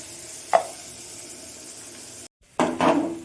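Vegetables hit a hot pan for a khichuri, giving a short sizzling burst, a quiet hiss, then a louder surge of sizzling and stirring after a brief gap, close by.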